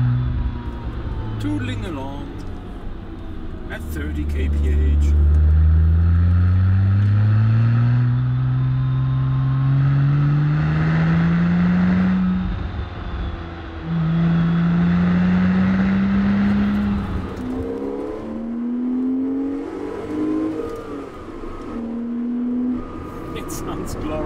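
A Porsche Cayman S engine hums steadily while driving at low speed, its note rising and falling with gear changes under the cabin's road noise.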